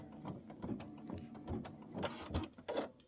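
An embroidery machine stitches a decorative outline around stripes on a quilt block, making a quiet, rhythmic mechanical clatter with repeated ticking and whirring bursts.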